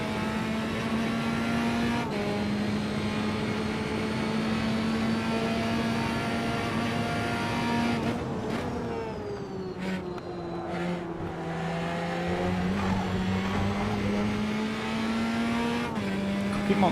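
Formula Trainer Advanced race car in Automobilista at the Red Bull Ring, a steady high engine whine that dips under braking and climbs again, with faint tyre noise and a brief spoken voice.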